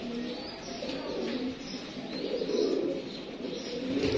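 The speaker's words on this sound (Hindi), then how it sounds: "प्योर टैडी कबूतर" Pure teddy pigeons coo in low, repeated throaty calls close by, a continuous soft burbling with no talk over it.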